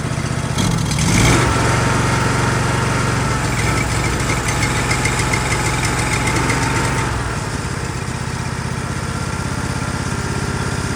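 A Ditch Witch 1820 trencher's small gas engine idles steadily after a carburetor cleaning, a continuous close mechanical drone with a faint rhythmic chug that eases slightly lower partway through.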